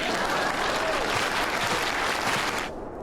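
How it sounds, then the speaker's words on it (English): Dense, steady applause from a group fills the moment loud and close, holding evenly before cutting off sharply near the end, with no voices over it. "Please clap."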